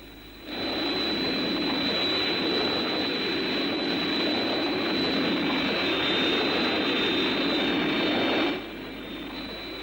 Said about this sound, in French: On dirait comme un moteur.